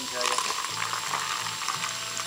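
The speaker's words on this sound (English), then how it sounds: "First, we will pour in some Red Bull." Red Bull pours and fizzes for an ice cream float, giving a steady broadband carbonated hiss throughout while a voice talks over it.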